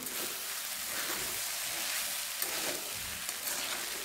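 Semiya (vermicelli) upma is stirred in a pan over low-to-medium flame, a continuous soft sizzle with scraping stir strokes, close and alone with no voices.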